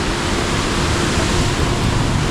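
Steady, loud rushing water fills the whole clip, a continuous broadband roar like a stream pouring into a rocky basin close by.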